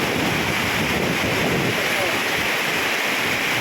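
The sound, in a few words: floodwater flowing over a road after heavy rain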